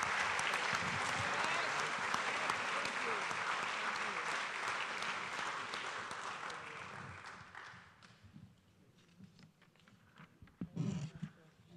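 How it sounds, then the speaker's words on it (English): Crowd applause for 15-year service awardees at the UWF Nautilus Awards, with many hands clapping in a loud, continuous roar for several seconds before it fades out abruptly, leaving a quieter room with a brief burst of noise near the end. "You can go ahead and give them a hand clap for your 15-year service awardees."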